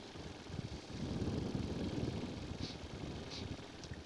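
An EOS Quattro four-stroke model aircraft engine idles a little high at about 2300 RPM: a quiet, steady, buzzing drone with fine rapid pulsing and a slight swell in the middle, heard alone.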